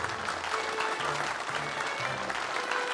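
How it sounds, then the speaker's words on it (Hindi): An audience at a magic show applauds in steady, dense clapping that stays even throughout. "आपकी खुशी और तालियां देखकर"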